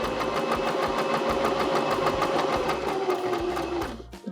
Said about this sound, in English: now I'm just going to go ahead and I'm going to start to sew